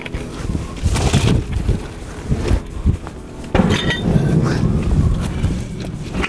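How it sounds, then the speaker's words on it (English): Heavy metallic clanks and scrapes as a 48-inch pipe wrench works loose a threaded cap on a rail car during unloading, irregular knocks of steel on steel up close with no talk. "If this won't get it, we've got a 48-inch pipe wrench to unscrew this cap."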